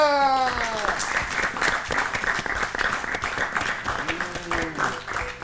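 A studio audience at an educational quiz show bursts into loud applause for a correct answer, framed by rising and falling musical tones at the start and end, with a voice briefly audible.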